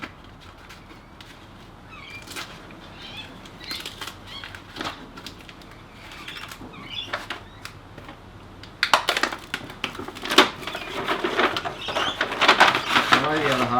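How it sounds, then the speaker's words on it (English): Backing being peeled off a car sound insulation sheet, a soft crinkly ripping that starts quiet and grows louder and more continuous in the second half, close to the listener. "peel back the backing, peel back about half it at the time."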